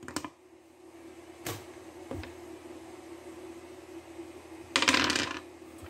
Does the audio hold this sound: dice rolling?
yes